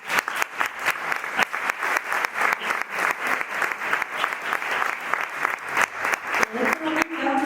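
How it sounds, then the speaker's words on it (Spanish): Audience applause for men on stage at a talk on fishing, a steady dense burst of clapping from a hall crowd lasting throughout, with a faint voice rising near the end. "Por eso os pido un aplauso para ellos."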